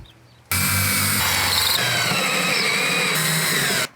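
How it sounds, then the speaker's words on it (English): A power drill fitted with a 1/8 inch bit bores holes for mounting a hose reel, running as a loud, steady, close whine for about three seconds with slight changes in pitch as it cuts. "you have to use the 1/8 and drill holes"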